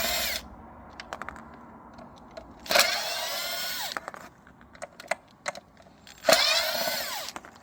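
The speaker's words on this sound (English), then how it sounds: "we're going to be using Phillips bit to remove these three screws" Power drill with a Phillips bit backing out three screws while removing a broken door side mirror on a Chevrolet Aveo, with two loud high-pitched whirring bursts and scattered clicks and taps between them.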